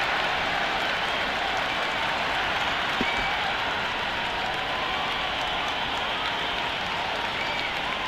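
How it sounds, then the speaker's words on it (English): Dense, steady roar of a large cricket crowd cheering and applauding at a T20 World Cup Super 8 match between West Indies and South Africa, a continuous wash of clapping and shouting at constant loudness throughout. "Will you listen to that crowd? They are loving this."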